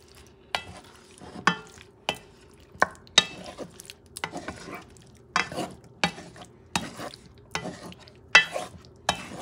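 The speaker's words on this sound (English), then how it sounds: "What it matters is that you want to mix them up nicely." Meat and beans are stirred into rice in a pan for Puerto Rican arroz mamposteao, making about a dozen distinct scraping strokes in a steady rhythm with quiet pauses and a faint sizzle beneath.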